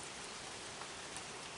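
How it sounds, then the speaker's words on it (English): Steady rain falling at night, a dense, even hiss of drops on surfaces that stays constant and fairly faint with no voices. "It's raining here."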